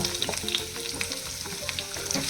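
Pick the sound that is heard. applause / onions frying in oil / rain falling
onions frying in oil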